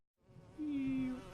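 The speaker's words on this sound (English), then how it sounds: "the bees attack the ring wraith because the rings don't like bees" Bees buzzing in the LEGO Lord of the Rings video game, a single close, steady drone swelling in after a brief silence and holding for about a second alone.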